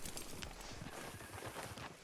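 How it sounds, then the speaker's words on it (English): Horse hooves clip-clop at a steady walking rhythm in Red Dead Redemption 2, close and fairly loud over a continuous background wash, with no one speaking. "Hitch your horse up here."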